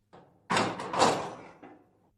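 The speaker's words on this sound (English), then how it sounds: "The Earl locked the door" A door being pushed shut with a solid thud, followed by a short rattle as it settles, heard close and alone with no talking.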